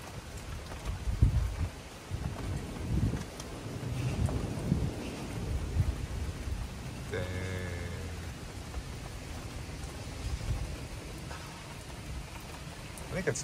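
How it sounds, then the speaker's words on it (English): Rain falls steadily during a Pennsylvania thunderstorm, with low rumbles of thunder rolling through a dense, continuous wash of sound and a brief tonal sound partway through. "I love thunderstorms."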